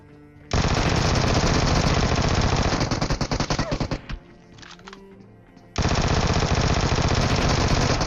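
Vector submachine gun firing in PUBG Mobile: loud, sustained automatic bursts fill most of the clip, pausing briefly with scattered shots before another long, dense burst resumes close up.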